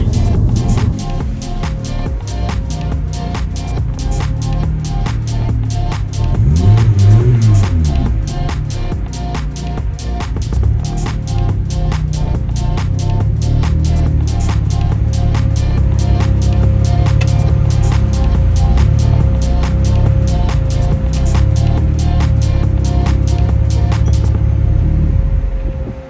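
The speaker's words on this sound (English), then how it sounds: "You just can't beat that inline 6-cylinder noise." An inline 6-cylinder engine in a boosted family sedan runs steadily nearby, a deep continuous rumble with a rapid ticking texture and slight swells in revs, heard alone for over twenty seconds before cutting off at the end.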